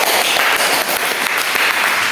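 A classroom of students clapping together in counted patterns, loud bursts of hand claps in quick rhythmic groups filling the room.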